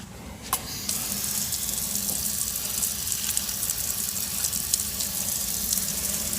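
An outdoor stand-up beach shower in San Diego spraying steadily, a continuous close hiss of water hitting the ground, with a couple of brief knocks near the start.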